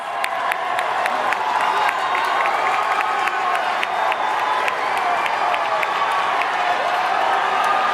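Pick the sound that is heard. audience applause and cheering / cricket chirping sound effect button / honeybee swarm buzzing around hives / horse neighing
audience applause and cheering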